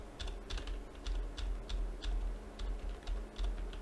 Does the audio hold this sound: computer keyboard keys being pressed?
yes